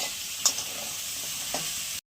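Pointed gourd pieces fry in a pan with a low, steady sizzle and a couple of brief crackles, then the sound cuts off abruptly into silence.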